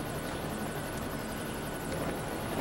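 Helicopter flying in the video game Lego City Undercover, a steady continuous rotor drone and engine whine held at even loudness throughout, with no talk over it.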